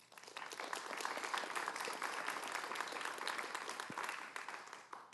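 An audience at a ward candidates' debate in Calgary applauds for about five seconds, a dense, even burst of clapping that swells quickly and tapers off near the end.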